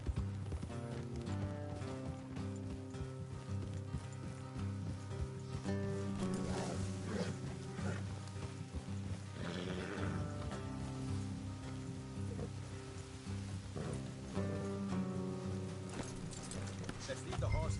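Horse hooves clip-clopping at a steady walking pace in Red Dead Redemption 2, beneath continuous talk and game music, the plodding rhythm persisting throughout.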